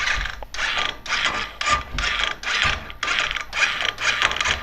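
Royal Enfield motorcycle electric starter cranking after a self-starter bearing repair, with a steady run of about nine rhythmic mechanical whirring bursts, close and fairly loud, and no talking.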